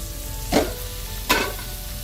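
Noodles dropped into a hot pan with green onion whites, two short bursts of loud sizzle about a second apart over a low steady background hiss, close and with no voices.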